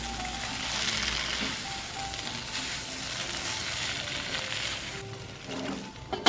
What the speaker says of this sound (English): Now let's stir the coconut mixture into the vegetables on a low flame.